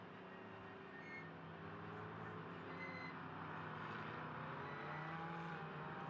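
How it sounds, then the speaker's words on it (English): GT race cars at the Mugello circuit during a Trofeo GT Sprint race make a steady, distant engine roar. Faint thin tones suggest squeaking brakes. "you can even hear some of the brakes squeaking there, getting all sorts of noises from the cars today"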